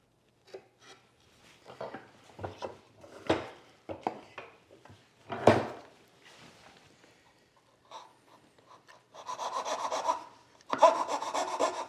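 A hand saw cuts angled dovetails in wood, giving close, quiet rasping strokes in irregular bursts with pauses, then two longer, louder stroke runs near the end, with no talking.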